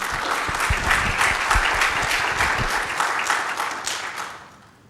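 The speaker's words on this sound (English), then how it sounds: "give him a big round of applause" Audience at a Kishwaukee College presidential briefing breaks into steady clapping that sounds close and full, then fades out toward the end.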